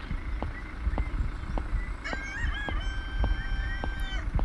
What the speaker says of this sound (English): Yeah, chicken.